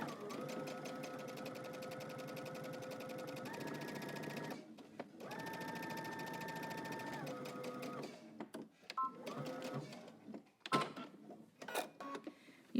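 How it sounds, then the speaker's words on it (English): A sewing machine runs a long steady stitching seam at an even motor whine, pauses, runs again, then gives way to short clicks and handling noises near the end, with no voices heard. "now I'm going to stitch down the center of both following my seam"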